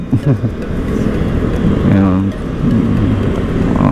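Motorcycles and traffic on a highway heard from a rider on an electric scooter: a steady road and engine rumble with passing vehicles, while someone talks over it.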